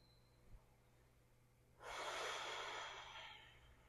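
One slow, soft breath flows out and fades during a reclined figure four yoga pose, quiet and close, with near silence before it.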